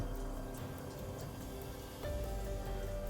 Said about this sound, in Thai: โอ้น้ำไหล ได้ยินเสียงน้ำไหล